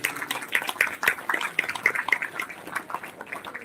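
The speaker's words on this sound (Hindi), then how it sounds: "तालियां बजती रहनी चाहिए" Faint, scattered clapping from an audience at a Ram katha gathering, uneven bursts of hand claps at low level with no voices.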